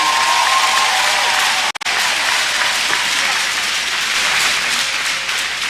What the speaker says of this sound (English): Also an applause for the three.